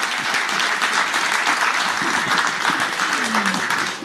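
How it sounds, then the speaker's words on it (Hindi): Loud, dense audience applause fills a hall at the News 24 Manthan 2025 event as Delhi politicians Manish Sisodia and Saurabh Bharadwaj are welcomed, steady throughout and tailing off at the end. "एक बार जोरदार तालियां बजा दीजिए"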